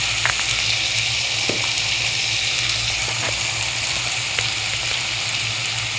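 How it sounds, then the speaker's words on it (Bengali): Ginger-garlic paste with turmeric, coriander and red chilli powder sizzles steadily in a frying pan, a continuous close frying hiss broken by a few light scrapes of stirring, with no voices. "ভালো করে নেড়ে ছেড়ে কষিয়ে নিচ্ছি।"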